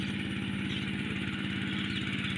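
A walk-behind tractor engine runs in a rice field with a steady, rapid chugging putter, close and continuous, with no voices over it.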